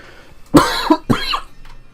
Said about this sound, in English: I don't cough if I'm not recording, but the second I start recording and start talking a bunch, suddenly I've got a cough again